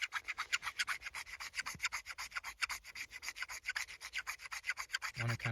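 Magnesium shavings are scraped from a fire-starting block onto a pile of lint outdoors on a winter backpacking trip. The scraping is close and steady, a rapid run of raspy strokes, with a short low knock near the end.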